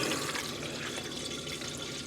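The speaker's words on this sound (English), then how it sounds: "the kitchen tap, the bathroom sink, the toilet and the shower head. Run them all and they are all sweet." Water gushing steadily from a household tap, a continuous splashing rush at moderate level, heard alone for about two seconds.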